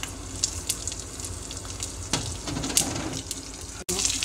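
Urad dal, peanuts and dried red chillies fry in hot oil for a Karnataka-style tempering, giving a steady close crackle and sizzle with a few sharper pops and a brief clatter near the end.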